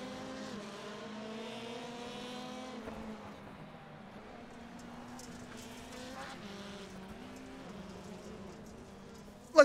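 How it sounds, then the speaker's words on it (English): Several race cars in the iRacing rallycross game bunch into the first corner at Daytona, engines droning steadily at high revs with tire scrubbing and contact noise, then a sharp thump at the very end; no talking. "Cars hitting each other going into the first corner."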